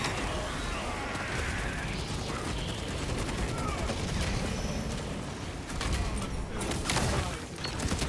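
Rapid video game gunfire in a chaotic firefight, dense bursts of shots and mechanical clatter sustained throughout, with background voices underneath.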